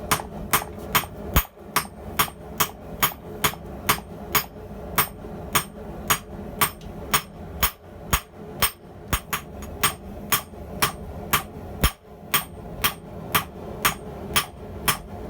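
Steady hammer blows ring out on hot unidentified steel at a forge while making tongs, a rapid even rhythm of sharp metallic strikes close by, with occasional brief pauses between runs.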